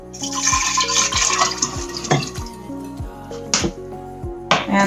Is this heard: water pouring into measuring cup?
yes